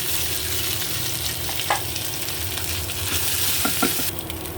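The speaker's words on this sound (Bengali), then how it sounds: "এখন মাছগুলোকে আর একটু ভাজি করে নেব" Fish frying in a pan with a steady, close sizzle throughout, broken by a few brief stirring or scraping clicks; no one speaks.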